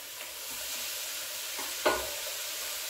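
Sliced lamb goes back into a cast iron Dutch oven over an open fire, giving a soft, steady sizzle with a couple of brief scraping knocks as the meat settles in the pot.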